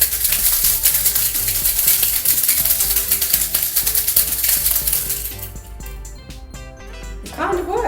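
A cocktail shaker gets a vigorous dry shake with lentil cooking liquid for a sour, giving a dense, continuous rattle for about five seconds over background music before it stops.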